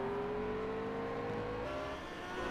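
A 5-litre Jaguar racing car engine revving hard as it powers out of a hairpin, a steady droning whine that rises slightly and then eases, heard from a moderate distance.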